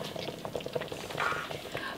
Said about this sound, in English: Myself and Raymond loves to listen to the pot boiling.